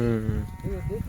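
Goats at a goat-farming farm in Gujarat bleat loudly and close by, a wavering call that drops into shorter bleats, with background voices underneath.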